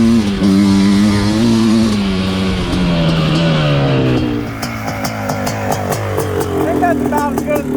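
A Suzuki Quadzilla LT500R ATV engine warms up nearby, a loud steady two-stroke drone whose pitch slowly drops, then settles into a rougher, popping idle as people talk over it.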